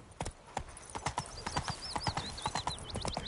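Roach the horse galloping in The Witcher 3, a fast, loud rhythmic clip-clop of hooves with a few whinnying calls over the top.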